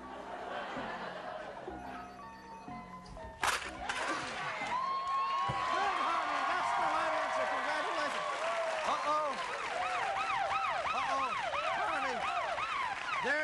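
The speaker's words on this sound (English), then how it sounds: "It's the warning siren, and that can mean only one thing." A game show warning siren sound effect blares loudly with a rising and falling wail that repeats continuously, joined by a crowd's applause and excited talk underneath.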